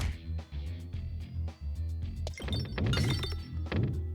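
Bombs being hit in the pachinko-style game Peglin, a dense run of punchy thuds and bright chiming impacts that builds into a louder cluster of hits over steady game music.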